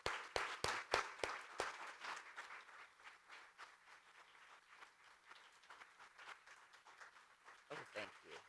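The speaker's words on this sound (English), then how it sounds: "Can we all just give a round of applause for Darlene?" Audience applause for a speaker at a BioCrossroads 2023 event on Alzheimer's disease: a few sharp claps, then a sustained patter of clapping that fades and lingers at moderate level, with some talking mixed in.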